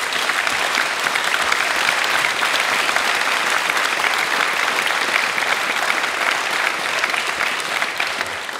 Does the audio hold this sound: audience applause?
yes